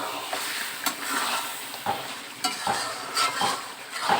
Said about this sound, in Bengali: একটু নেড়ে কষাতেই থাকবো।